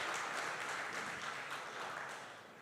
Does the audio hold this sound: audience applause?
yes